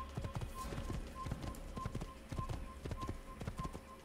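Close, steady clip-clop of a galloping horse's hooves in Assassin's Creed, regular beats repeating throughout with faint game background.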